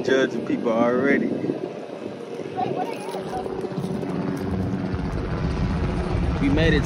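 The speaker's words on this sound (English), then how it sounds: "We got helicopter rides." A helicopter's rotor drones steadily during a tourist ride over the beach at Galveston, Texas, mixed with wind buffeting, while people talk loudly over it.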